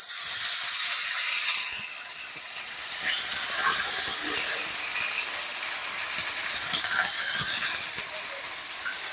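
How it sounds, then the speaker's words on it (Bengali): Chicken meat fries with onion in a wok, a loud hissing sizzle that is steady throughout, with stirring scrapes and a brief drop and rise in intensity. "মুরগির মাংসটা একটু ভেজে নেব পেঁয়াজের সঙ্গে।"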